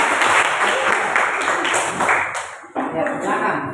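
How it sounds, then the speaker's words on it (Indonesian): Classroom group applauding Group 3, a dense burst of clapping from many hands that eases briefly then resumes, with a voice speaking over it. "tepuk tangan untuk kelompok 3"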